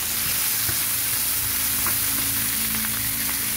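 Meatballs sizzle steadily in hot oil in a pan, a continuous close frying hiss with faint stirring clinks and no voices.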